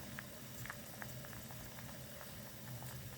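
Suki broth bubbling in a pot, a steady low simmer with fine pops and crackles scattered throughout, close but quiet, with no talking.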